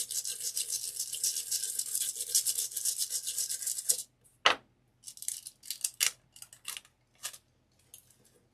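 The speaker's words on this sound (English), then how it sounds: "You can use any toothbrush. I just like this because it's a very stiff bristle" Stiff-bristled brush scrubbed over handmade Valentine earrings, a steady rapid scratching for about four seconds, then a thump and a few shorter bursts of brushing with gaps between them.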